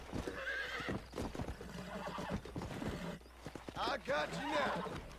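Repeated loud whinnies and squeals from a bucking horse in Red Dead Redemption on Xbox 360 mix with rapid hoof clatter near at hand, and a voice speaks over the commotion.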